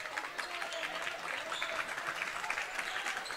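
Crowd applause at a high school boys basketball playoff game in a gym, a faint, steady clatter of clapping heard from a distance.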